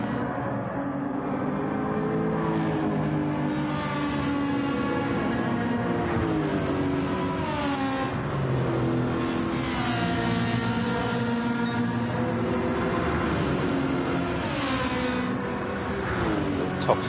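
Race cars in a racing video game run down the Monza straight in a late-race duel, with a steady, loud engine drone whose pitch rises and falls in smooth sweeps as cars hold speed and pull past one another, continuous throughout.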